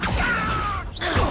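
An Accio summoning spell is cast in Hogwarts Legacy, a whirring magical whoosh with a gliding tone and creaky mechanical texture that cuts off sharply, then flares again briefly.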